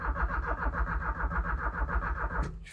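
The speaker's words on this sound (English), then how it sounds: "So what you heard there was the engine coughing." A long-neglected Porsche 944 cranks with a rhythmic starter chug, then coughs and briefly catches near the end before a sharp noise cuts in, at moderate level with no voices.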